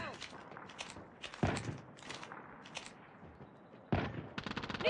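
Assault rifle fire in the video game COD Mobile, quick rattling bursts of shots with sharp louder reports, fairly quiet overall, with game clatter between bursts.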